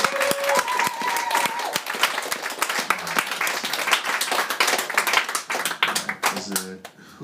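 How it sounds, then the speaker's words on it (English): A live comedy roast crowd at a New York venue claps hands in a dense, energetic burst, with a host shouting over the clapping and a short tone near the start. "Clap your hands right now, guys."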